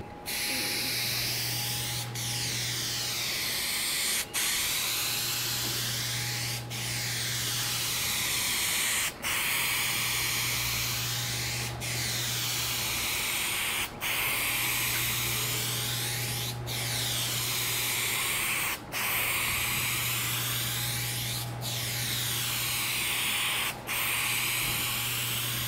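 A spray can lays down a second coat of paint in a long steady hiss, broken by short pauses, with faint rhythmic clicks and a low hum underneath.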